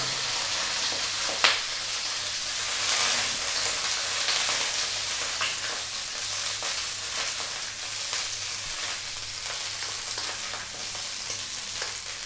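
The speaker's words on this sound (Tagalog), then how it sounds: "ipa-fry po natin yung ating quail egg" Quail eggs frying in cooking oil in a wok, a continuous close crackling sizzle with scattered pops and occasional utensil scrapes, no talking.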